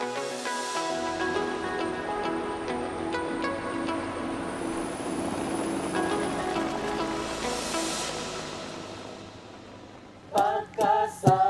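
Steady drone of a small plane's engine and cabin noise on approach to an island, continuous and fairly loud, fading toward the end before a few sharp bumps and clatter as it touches down.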